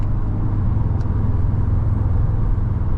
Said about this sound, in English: the turbo sounds are just really aggressive